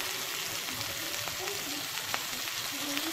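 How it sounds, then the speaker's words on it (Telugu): Homemade mutton seekh kebabs fry in a pan with a steady close hiss and crackle, broken by soft occasional scrapes and taps as they are turned. "ఇలా ఇలా టర్న్ చేసుకుంటూ ఫ్రై చేసుకోవాలి కబాబ్ని"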